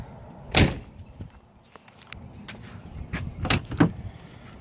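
Rear door of a 1995 Jeep Wrangler YJ being opened, with a sharp latch clunk near the start and a couple of thuds and rattles toward the end, close by, with no talking.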